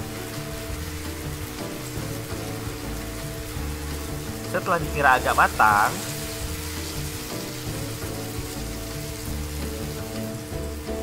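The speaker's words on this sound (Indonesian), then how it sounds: "Goreng tahu yang sudah dipotong tadi. Jangan lupa untuk dibolak-balik ya. Dan goreng sampai kekuningan." Cut tofu fries in a pan for Korean-style spicy braised tofu, giving a steady dense sizzle throughout with a brief burst of louder crackle midway while a person talks.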